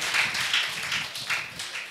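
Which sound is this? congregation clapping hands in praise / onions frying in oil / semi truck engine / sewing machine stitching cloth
congregation clapping hands in praise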